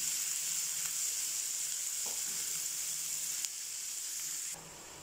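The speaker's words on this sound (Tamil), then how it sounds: "வெங்காயம் நல்லா வதங்கட்டும்." Onions sizzling steadily in hot oil for potato masala, a bright continuous hiss with a couple of soft stirring knocks; the sizzle drops quieter near the end.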